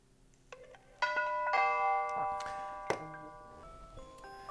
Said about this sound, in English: So I'm going to press the doorbell again.